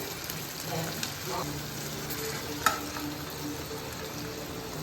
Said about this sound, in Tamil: தக்காளியும் நல்லா வதங்கி இருக்கும்